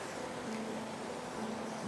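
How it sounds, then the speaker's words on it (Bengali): The Rongbhong river at Tabakoshi near Takdah in the Darjeeling hills, a continuous rushing wash of flowing water, steady and fairly even throughout with no voices. "জলের কলকল শব্দ"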